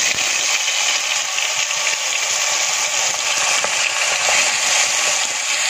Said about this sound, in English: now we're going to throw in, first of all, the onion paste.